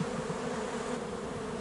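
A dense, steady buzzing of many honeybees close by at a hive, continuous and even in loudness, with no voices.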